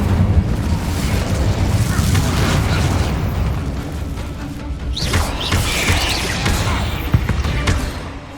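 An Incendio fire spell cast in Hogwarts Legacy on PS5: a loud, roaring burst of flame with a booming, explosive rush that fills the whole stretch, close and full, with brief crackles near the end.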